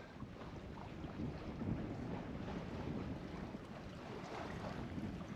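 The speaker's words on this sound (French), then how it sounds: "il y a un petit coup de vent là qu'on a réussi à attraper" Steady wind roaring at sea over a moving sailboat close-hauled under sail during Storm Benjamin, a broad continuous rush with a slight gust swelling midway, no voices.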